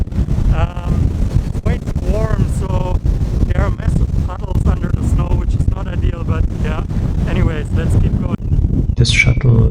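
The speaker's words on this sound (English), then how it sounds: "So it's super windy at the moment." Strong gusting wind during a snowstorm in Iceland, heavy low rumble buffeting the microphone throughout, with people talking over it.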